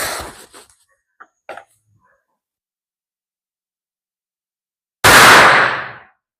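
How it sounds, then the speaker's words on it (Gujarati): A bidi bomb firecracker set off during Diwali goes off in one loud, close bang that rings and fades over about a second, after a few faint brief sounds and then silence. "મસ્ત મજાનો બહુ ખતરનાક આવે બીડી બોમ્બ"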